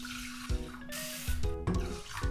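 Water poured from a tap or cup into a bowl of soaking rice for an onigirazu rice sandwich, a few short splashing pours with gurgling between them, close and moderately loud.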